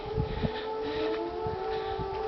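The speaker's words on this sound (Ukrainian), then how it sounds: "Звучить повітряна тривога." A steady, wailing air raid siren tone holds over continuous background noise in Ukraine, with dull low thumps scattered underneath.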